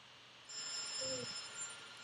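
A mobile phone rings on a small local OpenBTS GSM test network, a quiet electronic tone starting partway in and sustaining steadily in a hushed room.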